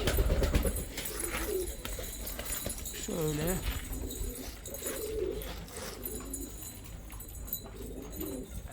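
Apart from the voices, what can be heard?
flock of pigeons cooing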